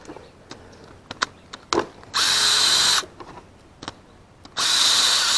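Power tool spinning out valve cover bolts on a Honda 400EX quad, two loud close bursts of whirring separated by a pause, with scattered clicks and small metallic taps between them and no speech.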